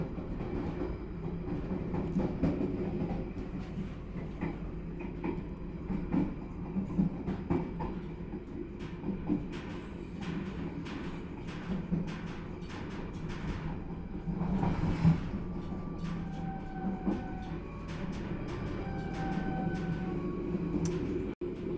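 An Ambarawa Express passenger train departing Cepu station in Indonesia rumbles steadily from inside a carriage, with rattling, rhythmic clicks and occasional squeals as it gets moving.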